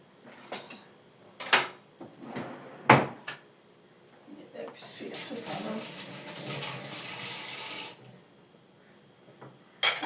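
Water poured into a bowl of breakfast batter in a home kitchen, a steady splashing stream of several seconds after a few clattering knocks of utensils, with a short knock at the end.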